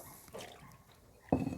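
Water is poured into a baked pasta and sauce dish, with a soft splash and trickle first, then a louder, fuller pour near the end, close by.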